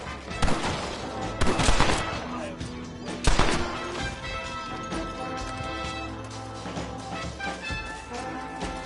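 Gunfire in Red Dead Redemption, several sharp shots and bursts in a western shootout, with loud cracks early and mid-clip over a busy background of game sound and music.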